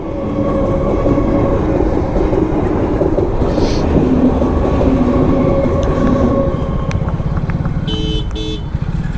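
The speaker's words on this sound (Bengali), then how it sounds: "তো ফাইনালি ট্রেনটা চলে গেছে" A train passes a level crossing close by, a loud continuous rumble and clatter of wagons with rhythmic wheel thumps and a short horn-like toot near the end.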